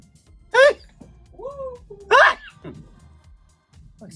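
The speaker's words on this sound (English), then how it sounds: "Oh, I'm gonna sneeze." Two sharp sneezes burst out close by, separated by a short gasping breath, with quiet vocal sounds around them.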